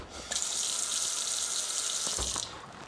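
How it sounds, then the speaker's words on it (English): Water from a kitchen tap runs steadily into a 1.5-inch drain pipe, a close, even hissing gush that starts abruptly and stops after about two seconds. "we run the water"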